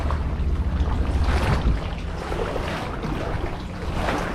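Choppy harbour waves washing and slapping against a kayak under the stone bastions of Valletta Grand Harbour, Malta: a continuous loud, rough roar of water with gusty wind noise and no voices.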